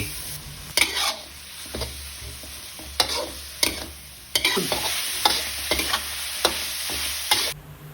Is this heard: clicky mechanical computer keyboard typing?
no